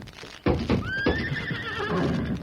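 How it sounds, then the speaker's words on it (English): A horse neighs loudly in a stable in a radio drama: one long, close, wavering whinny follows a few shuffling thumps, and no talk is heard. "There's your horse tied up in that stall, and you're welcome to him."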